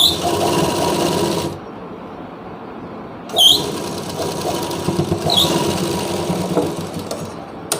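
A sewing machine stitches a Rajputi lehenga with a close, steady mechanical whir that stops abruptly, then starts again and runs on in a continuous drone.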